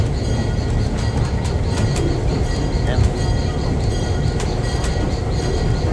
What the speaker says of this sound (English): We're just going right over the switch. I love how the train rocks back and forth, makes it comfortable.